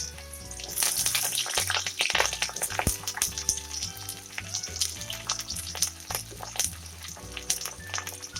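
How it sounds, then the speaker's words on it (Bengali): Cut pointed gourd pieces fry in hot oil, a close, crackling sizzle with scattered pops and a low, rhythmic background hum throughout. "এবার ওই তেলের মধ্যে আমি কেটে রাখা পটলগুলো দিয়ে দিলাম।"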